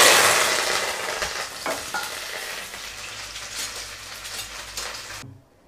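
Crushed garlic, cumin and curry leaves hit hot oil for a parotta dish. A loud burst of sizzling spatters up at once, then settles into a quieter, steady fry before cutting off.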